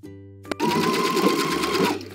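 A sewing machine stitches the side seam of a clear raincoat in one steady, fast, close burst lasting under two seconds, following a faint click and a brief pause.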